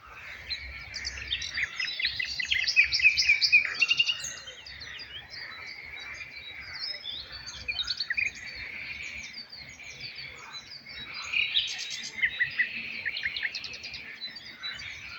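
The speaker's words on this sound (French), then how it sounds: "Le chant des oiseaux," Birdsong on the banks of the Loire: several birds chirp and warble in overlapping phrases, with denser bursts around the start and toward the end, over a soft, steady outdoor background.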